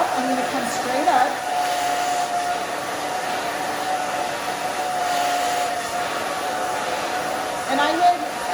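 A hair dryer blows on a woman's bob-cut hair during a professional styling session, a steady loud whooshing roar with a faint whine, its pitch shifting slightly as the dryer moves.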